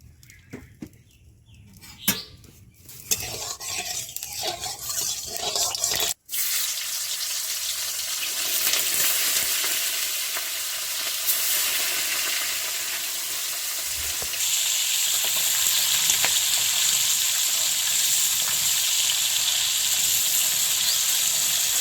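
Pieces of small carp fry in mustard oil in a wok: quieter crackling with sharp pops at first, then a brief cutoff before a loud, continuous sizzle that grows steadier and brighter, with no voices.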